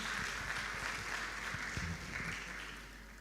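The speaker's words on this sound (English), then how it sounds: "A big round of applause for Dr. Dorothy and Christine." A steady wash of audience applause fills a hall at a national communications conference, a dense continuous patter that holds fairly level and eases slightly toward the end, with a low room hum beneath.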